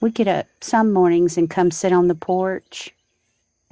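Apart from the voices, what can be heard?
No distinct noise like a dog, phone or traffic.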